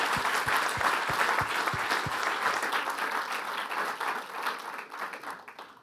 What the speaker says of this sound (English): if I could have a round of applause for them